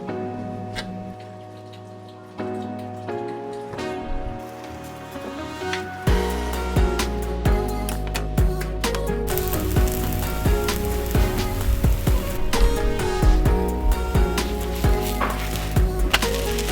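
Sourdough dill crepe batter hits a heated pan. Soft clinks and scraping come first, then a loud, steady sizzle from about six seconds on, close and continuous, with occasional taps over it.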